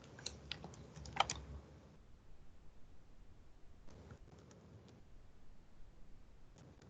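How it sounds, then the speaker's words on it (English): Keys tap on a computer keyboard in quick bursts, faint and close, with a cluster of clicks early on and more short runs later, separated by quiet gaps. "let me just type something out"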